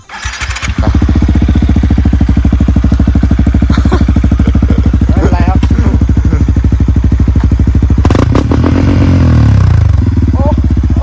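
A motorcycle engine roars loud and close as the rider holds a wheelie in second gear, a rapid, steady throbbing drone with a surge in revs near the end and a brief voice faintly underneath.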